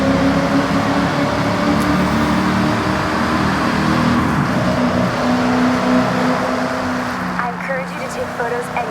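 A car engine drones steadily and loudly in a tunnel in the video game Forza Horizon 6, its sound reverberating off the enclosed walls, with a voice speaking over it.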